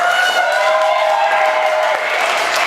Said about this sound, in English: Loud round of applause for Jared